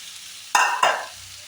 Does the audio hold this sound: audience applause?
no